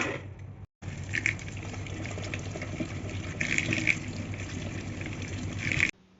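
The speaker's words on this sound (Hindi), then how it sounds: "सबसे पहले तो हम केरी को अच्छी तरह से धोएंगे, वॉश करेंगे।" Two kilograms of raw mangoes being washed in water: continuous splashing and sloshing with bursts of water movement, close and fairly loud, ending abruptly.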